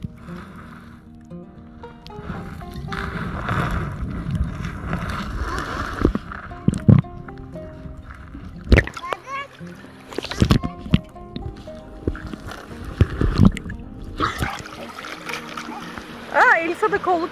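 A child in armbands swims in the sea, with irregular water splashes and sloshing bursts close by, loudest toward the end, under frequent chatter and talk from people nearby.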